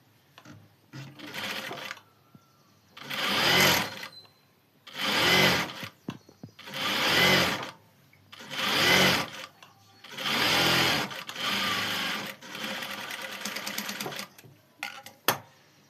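A sewing machine stitches a blouse hem in repeated bursts of rapid mechanical whirring, each lasting a second or two, separated by short pauses and faint handling sounds.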